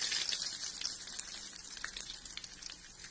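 Curry leaves and two dried red chilies dropped into hot oil with spluttering mustard seeds for a banana stem thoran, giving a faint, scattered crackle and popping over a soft, low sizzle, with no voices.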